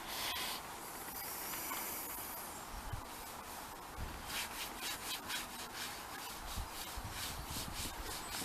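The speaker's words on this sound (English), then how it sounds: "put more stuff on the cloth and put it in, rub it in" A cloth rubs cleaning product into the interior of a Jaguar XJ Executive, giving a continuous close scrubbing hiss with rhythmic strokes and a few soft bumps, no voices.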